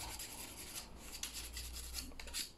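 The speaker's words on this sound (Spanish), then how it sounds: "Todo bien lijadito hacia adentro, todo aquí para que no quede rebaba." Sandpaper rubs along the edges of a bamboo saxophone to remove burrs, giving quiet, close, repeated scratchy strokes with no talking.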